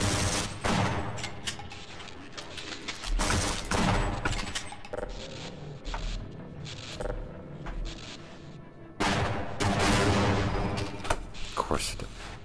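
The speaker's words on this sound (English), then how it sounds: "My rounds are hitting the walls more than hitting the actual thing." Bursts of rapid gunfire from the first-person shooter Half-Life: Blue Shift, with rounds striking walls in loud clustered volleys that stop and restart, as someone talks between them.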